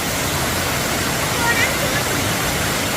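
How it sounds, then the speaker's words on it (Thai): A waterfall in Chiang Mai pours in a steady, loud broadband rush of falling water, constant and close with no break, and a brief voice-like trace is barely noticeable beneath the flow. "ตรงนั้นเป็นน้ำตกนะครับนี่ ไหลลงตรงนั้น"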